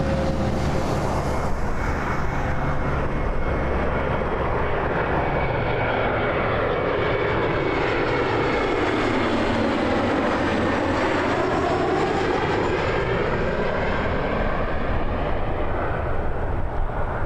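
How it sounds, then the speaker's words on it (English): An Embraer E175 regional jet roars past at Toronto Pearson Airport, a loud sustained engine rumble and whine that swells and shifts pitch as it passes, heard alone at close range. "That was an E175."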